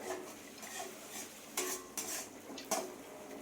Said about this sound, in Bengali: এটাকে আমি ভালো করে নেড়ে নেব